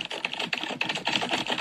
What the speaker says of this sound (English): Okay, she's typing.